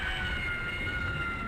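An electronic siren from the video game Critical Path blares as a loud, steady, continuous tone through the whole short stretch, with no speech over it.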